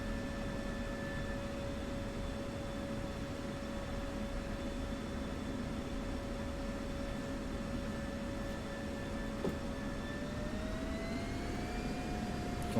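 F-16 Viper jet engine in the DCS World flight simulator, a steady idle whine with a constant turbine tone over broad rushing noise while taxiing, the pitch rising slightly near the end.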